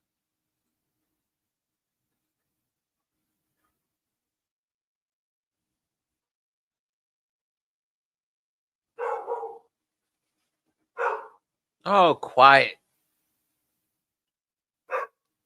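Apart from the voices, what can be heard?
dog barking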